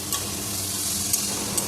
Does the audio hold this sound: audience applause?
no